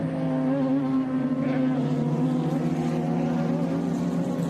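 Race car on the main straight of a street circuit at a NOLA racing event, a steady, loud engine drone holding a near-constant pitch as it runs past.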